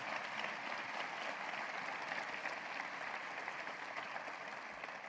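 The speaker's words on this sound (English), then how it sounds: "Let's give these guys a hearty round of applause." Audience applause at a university state-of-the-university address, a steady wash of many hands clapping from a large crowd, fairly distant and sustained for the whole stretch without voices.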